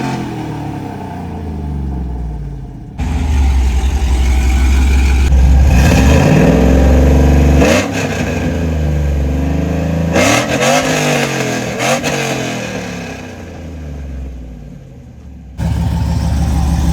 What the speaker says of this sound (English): let me go ahead and give you guys a rev of before and after the long tube headers